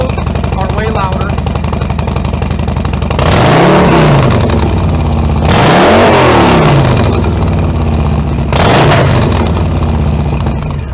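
Harley-Davidson motorcycle fitted with a Bassani exhaust and a stage 2 cam, revved hard in three loud, close bursts that rise and fall over a steady idle, with a voice speaking underneath.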